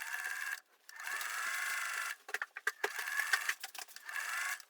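A sewing machine stitches along the edges of a flat cap in short bursts, faint whirring runs broken by brief pauses and a few clicks.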